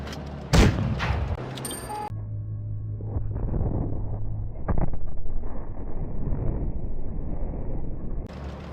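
A tank cannon fires and penetrates its target in World of Tanks Blitz, opening with one loud, sharp blast, followed by rumbling engine and battle noise that fades to a steady low drone.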